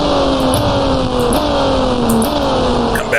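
A GT race car in the GT Racing 2002 sim video game bumps over chicane curbs, its engine droning loudly with pitch sliding down and small jolts as the wheels hit the kerbs, no voices.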